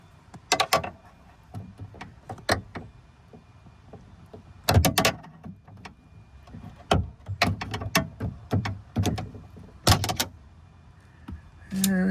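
Someone pries the old sliding door handle off a 2012 Honda Odyssey Touring Elite, producing a series of sharp plastic clicks, knocks and snaps close up, with bursts of clattering and brief pauses between efforts.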